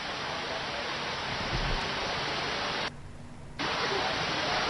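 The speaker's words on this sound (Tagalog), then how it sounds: "patuloy ito pagbuhos ng ulan" Heavy rain pours steadily in Baguio City during a storm, a loud, dense, continuous hiss that briefly thins for a moment before resuming at full strength.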